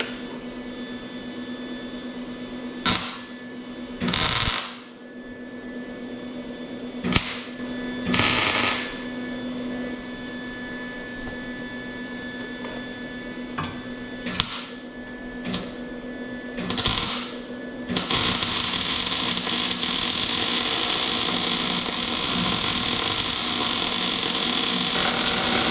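Short crackling bursts of tack welding on a leaf spring slider bracket, several brief sizzling zaps with pauses between, followed by a longer steady buzzing weld at the end.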